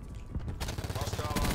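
Rapid SMG fire in Call of Duty Black Ops 4 starts after a short quiet lead-in, a close, loud, continuous stream of fast shots with mechanical clatter running to the end.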